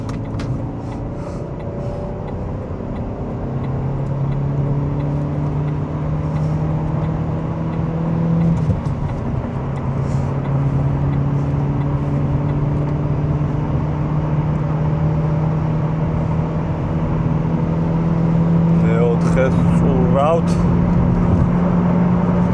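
An Opel Astra H convertible drives along a road and shifts into fifth gear, its steady engine drone holding a low pitch under road noise while people talk over it.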